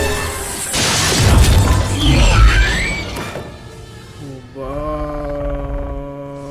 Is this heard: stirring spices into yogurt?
no